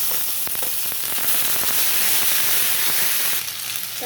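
Ginger-garlic paste sizzles loudly in hot oil with bay leaf and cumin for a Dhaba-style paneer masala, a steady dense crackle with a few sharp pops, easing slightly near the end.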